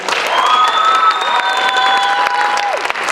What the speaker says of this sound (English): Another round of applause for Josh.